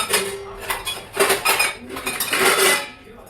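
A metal utensil knocks and clinks against a pressure cooker of cooked rice and dal in a home kitchen, several bright metallic taps in uneven bursts, close and fairly loud.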